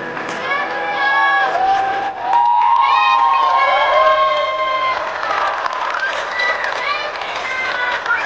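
An audience at an outdoor Ramleela performance cheers and shouts continuously, with many overlapping voices rising and falling for several seconds.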